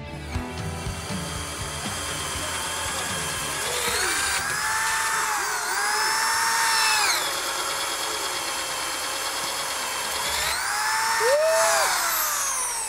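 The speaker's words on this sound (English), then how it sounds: "235G half-inch pistol drill from DeWalt, and man, has it got power." A DeWalt 235G half-inch pistol drill, a 7.8-amp corded tool, revs up and winds down in several bursts at a job site, its whine rising and falling in pitch, close and fairly loud with no talking.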